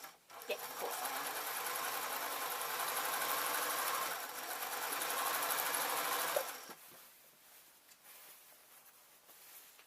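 A sewing machine stitching a bear hat runs in a steady, loud continuous whir for several seconds, then drops off to quieter intermittent sounds.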